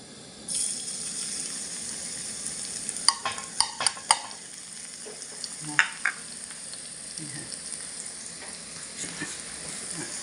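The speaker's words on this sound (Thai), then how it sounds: "ตั้งน้ำมันให้ร้อนนะคะ แล้วก็ใส่กระเทียมลงไปค่ะ" Garlic dropped into hot oil sets off a sudden loud sizzle that holds as a steady hiss, punctuated by a few sharp clicks and scrapes from a utensil in the pan.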